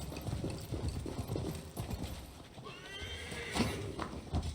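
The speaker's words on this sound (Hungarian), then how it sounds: "Jó, akkor hívjuk a lovat." In Assassin's Creed Valhalla, a summoned horse gallops with rapid, close hoof clops, then gives a clear whinny midway, followed by more hoofbeats and snorting.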